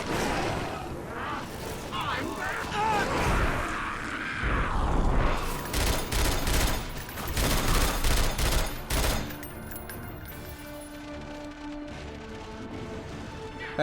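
Rifle in The Darkness II firing three-round bursts amid heavy in-game shooting, loud close volleys and clattering mechanisms for several seconds before fading to quieter game sounds.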